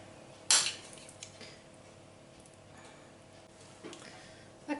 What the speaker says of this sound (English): now we're just going to spoon these into these